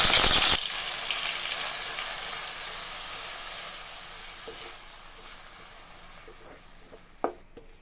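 Onion paste frying in a pan of oil with cumin, a steady broadband sizzle that opens with a loud burst and then settles, holding through the clip with a sharp clink near the end and no voices.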